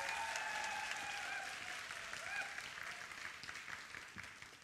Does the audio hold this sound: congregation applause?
yes